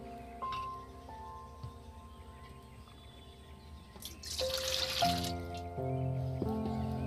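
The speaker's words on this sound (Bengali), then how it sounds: "হালকা উষম আমি গরম জল করে নিয়েছি, এটাকে ঢেলে নেব।" Warm water being poured into a pan while making chomchom, a Bengali sweet: a short splashy pour in the middle, set among steady kitchen tones and faint clinks, with no talk.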